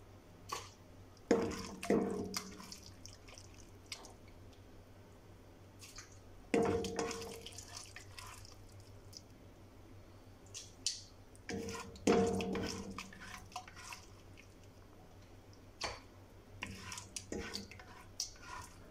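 Cassoulet is spooned and scraped into a slow cooker in three wet, squishy bursts with clinks of a pot, separated by quiet pauses.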